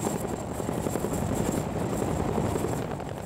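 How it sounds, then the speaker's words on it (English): Chinook tandem-rotor helicopter with double rotors hovering to deliver loads, a loud continuous rotor thump and turbine drone heard close and steady. "that's how the Chinook gets into position to deliver its loads"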